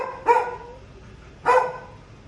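A dog barks twice indoors at a Chicago home during an HVAC service call for no cool air, two loud, close, single barks about a second apart over a low background hum.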